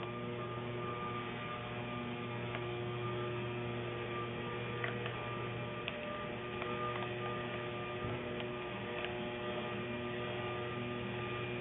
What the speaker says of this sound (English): sorry about the yard blower